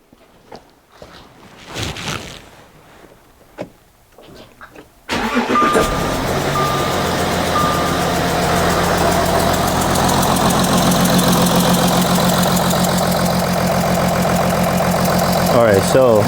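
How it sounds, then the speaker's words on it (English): Audi Q7 diesel with a rough-running fault cranks and starts after some quiet handling noises, then settles into a loud, steady, slightly uneven idle close by, with a voice speaking over the engine. "I'm gonna go in the vehicle and start the engine"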